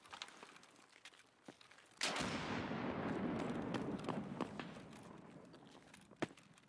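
A grenade blast in a first-person shooter game erupts suddenly as a broad, loud burst and rumbles on for several seconds, with scattered gunshot-like cracks and footstep ticks before and after.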